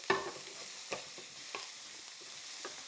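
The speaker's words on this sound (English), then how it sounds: "Before the onions burn, give them a toss." Onions and lean ground beef are tossed in a frying pan, giving a soft, quiet sizzle broken by a few light scrapes and clatters.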